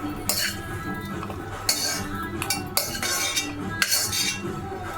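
A metal spoon scrapes and clinks against a pan and bowl as fried dal and raisins in ghee are transferred, giving repeated sharp scraping strokes with brief gaps over steady kitchen background.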